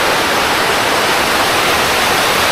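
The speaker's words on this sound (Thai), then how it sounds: "นี่เป็นน้ำตกเขาไงไหลลงมา" Water pours down the Ko Luang waterfall in Li district, Lamphun, as a loud, steady, broadband rush with no voices over it.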